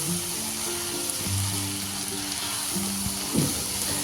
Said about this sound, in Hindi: हम इसको 2-3 मिनट के लिए ऐसे ही चलाते रहेंगे ताकि जो हमारी हल्दी मिर्च है वो भी अच्छे से पके